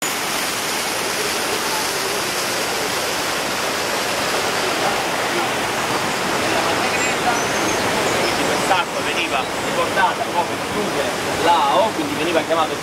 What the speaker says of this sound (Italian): tutta l'abbondanza di quest'acqua, che sgorga qui a Viggianello alla sorgente così chiamata del Mercure